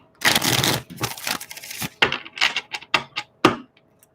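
Tarot cards being shuffled and handled, a quick series of close papery riffles and sharp taps of varying loudness with no voices.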